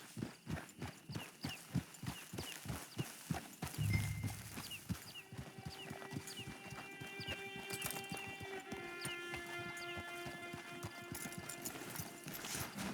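Horse hooves clip-clop steadily at a walk in the Red Dead Redemption 2 video game, with a soft snort partway through, followed by a low sustained musical drone and ambient tones.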